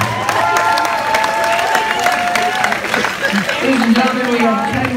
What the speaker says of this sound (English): Give these people a great round of applause.